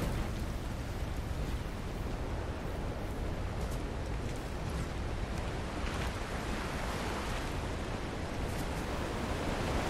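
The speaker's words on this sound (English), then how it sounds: "How the fuck is a waterfall hurting me?" A waterfall rushes in the Fortnite video game as a steady broadband roar of falling water, continuous and even in level for the whole stretch with no voices.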